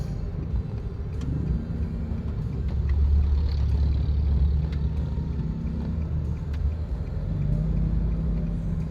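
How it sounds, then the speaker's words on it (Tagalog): Road traffic rumbles as a continuous low drone of engines nearby, swelling slightly in the middle, with faint clicks and no speech. "Traffic."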